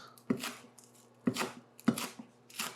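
A knife chopping wilted green onion on a cutting board: four firm, spaced thuds close up, each with a brief ringing tail, in a quiet kitchen with no talk.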